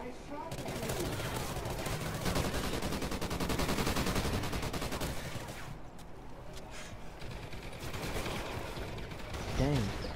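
Rapid turret gunfire in a video game, a dense sustained burst of shots running through the whole stretch with continuous game noise layered in.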